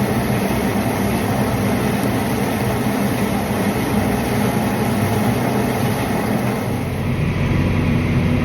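A farm tractor idles in a field of cereal rye cover crop, a steady, close engine drone with a low rumbling throb that holds without a break the whole time, no voices over it.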